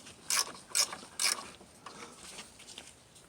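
Three sharp ratcheting bursts, each a quick run of metallic clicks, as bolts on a passenger-side motor mount of a GM truck or SUV are snugged down, followed by fainter tool handling.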